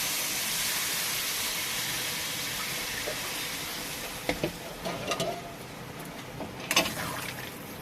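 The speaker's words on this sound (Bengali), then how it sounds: "এবার আমি জল দিয়ে দেবো এতে দেখুন জল দিয়ে দিচ্ছি" Water is poured into a pan of spiny gourd (kakrol) curry after the spices are fried, a steady broadband pouring rush that fades midway, followed by a few brief splashes and clinks near the end.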